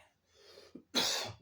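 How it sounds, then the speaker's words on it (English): A man gives a single harsh cough after a short breath, close and brief in an otherwise quiet space. "Then I cough because I don't talk that much."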